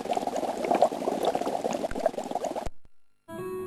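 Water and Split AG expansive mortar powder pour into a container with a close, steady bubbling and fizzing wash that stops abruptly, followed by a brief clunk and quiet handling.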